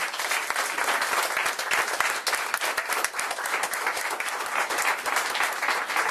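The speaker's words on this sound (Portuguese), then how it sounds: "Vamos aplaudir o Senhor." A church congregation claps together during a worship service, dense and continuous applause with sharp individual claps throughout, loud and sustained for about six seconds with no talking.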